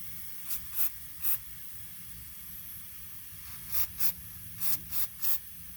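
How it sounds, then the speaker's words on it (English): Short bursts of brake cleaner sprayed from an aerosol can onto the EGR valve of a 2011-2017 Honda Odyssey, about eight hissing squirts in two clusters, close and fairly loud over quiet background. "Use some brake cleaner or carburetor cleaner."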